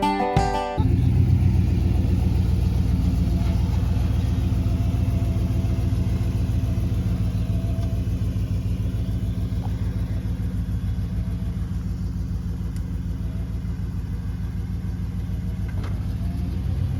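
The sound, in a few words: truck engine while driving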